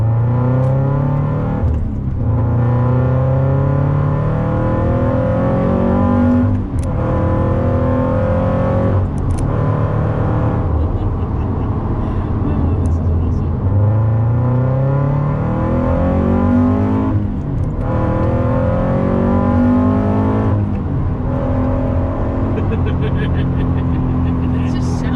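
A track car's engine on a race circuit, loud and close, revving up through repeated rising gear pulls with sharp drops at each shift, the harsh drone continuing throughout.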